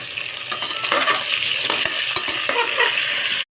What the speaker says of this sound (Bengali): 4 টেবিল স্পুন সর্ষের তেল গরম করে 3টে মিডিয়াম সাইজের কেটে রাখা আলু এবার ভেজে নেব